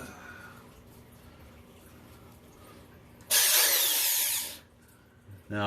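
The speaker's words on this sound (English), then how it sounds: "And there's where I'm going to be drilling." A power drill whirs loudly for about a second, boring into the wooden body of an Ibanez Gio Goldtop guitar, then cuts off; quiet room tone before and after.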